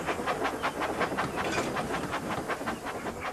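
Thomas the Tank Engine hurrying away, a steady rhythmic chuffing and clickety-clack of a small steam engine on rails, with hissing steam, moderately loud and continuous.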